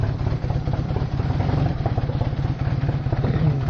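A Kawasaki KZ440 motorcycle engine idling close by, loud and steady, with a fast even chug and some mechanical clatter throughout.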